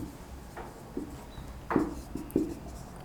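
Pen or marker writing by hand on a board or paper during a maths lesson on circle tangents, a few short scratchy strokes close by with quiet pauses between them.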